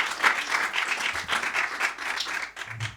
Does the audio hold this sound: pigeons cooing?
no